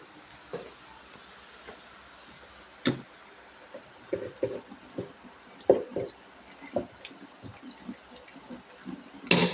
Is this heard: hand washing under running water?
yes